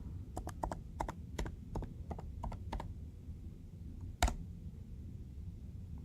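Fingers tap out a MySQL password on a computer keyboard: a run of light, evenly spaced key clicks, then a short pause and one sharper, louder keystroke, close up in a quiet room.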